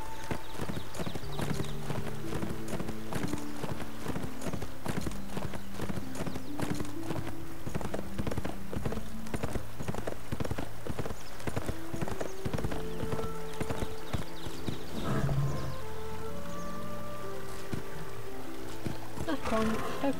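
Horse hooves clip-clopping at a steady riding rhythm in a farm-themed riding video game, a close repeated clatter with background music tones, briefly joined by a whinny-like sound near the end.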